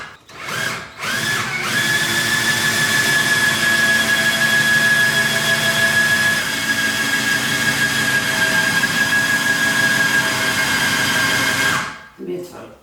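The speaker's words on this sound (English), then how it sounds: "This is my regular drill. You connect it and you'll go and to raise it up." A regular power drill drives the lifting mechanism of a Fleximounts adjustable overhead garage storage rack toward the ceiling. It makes a loud, continuous whirring whine for about ten seconds, with a steady high pitch, then winds down and stops.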